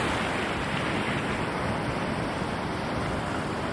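Sea surf breaking just beyond a bay on the island of Groix, a continuous broad roaring wash of waves with steady loudness, heard alone with no voices.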